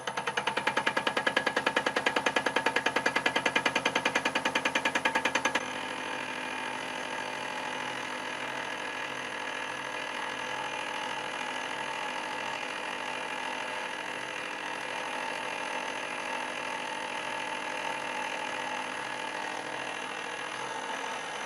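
A slotting head on an NGF-110 milling machine, built from a 1A616 longitudinal feed, cuts a metal surface. A loud, rapid stroking clatter runs for about five seconds, then gives way to a steady mechanical drone with no talk.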